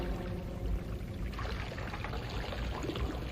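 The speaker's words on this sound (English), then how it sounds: "Only that splashing water." A fountain splashes continuously in a quiet setting, a steady rushing wash of falling water, close and even in level, with no voices over it.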